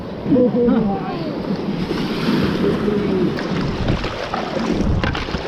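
Raft running class 2 white water rapids on the Peshtigo River: steady rushing, splashing water with wind buffeting, fairly loud and continuous, with voices heard faintly over it.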